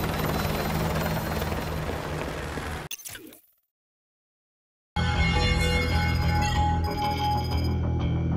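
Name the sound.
helicopter in video game Call of Duty Modern Warfare 2 Remastered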